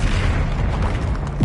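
Confringo blasting spell explosions in the Hogwarts Legacy video game, heard as a dense, continuous roar of loud booming blasts. A sharper burst comes right at the end.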